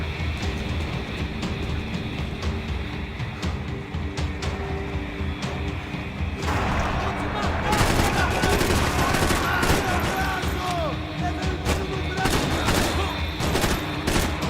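Sustained gunfire from the video game Max Payne 3 plays throughout, with dense rapid shots and bursts forming a continuous fusillade that grows louder and busier partway through, amid other game noise.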